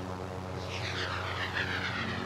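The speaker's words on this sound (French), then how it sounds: "J'ai du mal à quitter l'hélico en ce moment." A helicopter in the Warzone video game drones steadily with a dense engine and rotor rumble, close and continuous.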